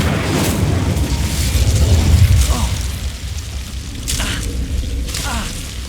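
A fire spell cast in the video game Hogwarts Legacy, giving a deep, loud whooshing boom that swells and fades over a couple of seconds, with softer bursts and game effects trailing after.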